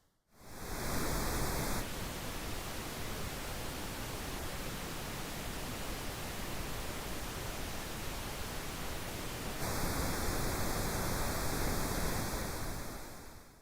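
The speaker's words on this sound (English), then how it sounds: "I'm now going to solo the pink noise channels one at a time." Steady broadband pink noise fills the whole stretch, a smooth constant hiss with a brief narrower-sounding section at the start and end.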